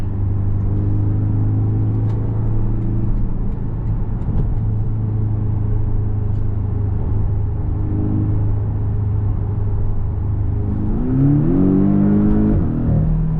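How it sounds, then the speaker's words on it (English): A 2024 Porsche 718 Boxster's 300-horsepower four-cylinder engine hums steadily at low revs, then revs up and accelerates near the end, with a rising whine and rumble. "That's a really powerful 4-cylinder."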